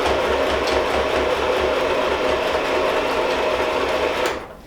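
A sewing machine runs steadily, stitching a seam around a double-sided eco bag with a rapid, even mechanical whir, loud and close, with no talk, before stopping abruptly near the end.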